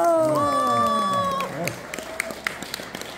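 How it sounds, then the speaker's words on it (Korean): A loud voiced shout opens the moment at a lacquer folk painting club's members' exhibition opening, then a small audience answers with a few sparse, scattered claps that trail off over the next two seconds. "큰 박수 부탁드리겠습니다"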